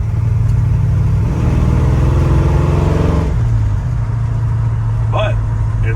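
A 1970 Ford F-100 bumpside truck with a Crown Vic swap and a 600 CFM FST carburetor drives steadily, its engine droning loud and close as it rises and settles, with a person talking over it.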